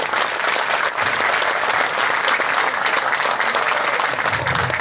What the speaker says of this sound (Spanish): Palmas por Lambayeque, por favor.